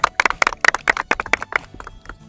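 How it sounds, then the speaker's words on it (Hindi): A small crowd claps for a guest at a ceremony honouring selected SSC GD and CPO candidates, sharp uneven hand claps, close and lively, tapering off toward the end with no voices. "इनके लिए जोरदार ताली हो जाए पहले तो"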